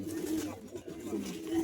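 Pet pigeons of an old-generation line cooing in a loft, a steady low murmuring coo running throughout, close and moderately loud over faint background noise.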